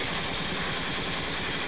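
Continuous automatic gunfire from a multiplayer match of Modern Warfare 3 played on the Wii, a dense unbroken rattle of rapid shots, loud and close, with no talking over it.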